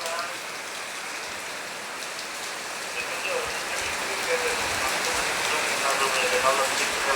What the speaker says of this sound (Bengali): অনেক বৃষ্টি হচ্ছে, অনেক বৃষ্টি।